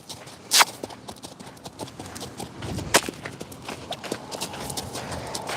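Horse cantering loose during liberty groundwork in an arena, hoofbeats thudding in a steady rolling rhythm at moderate distance, with a few sharper hits standing out.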